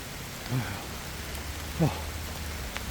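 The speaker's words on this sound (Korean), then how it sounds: "비가 막 쏟아져가지고" Heavy rain pours over a forest with a steady hiss of falling drops, while a couple of brief voice sounds rise above it.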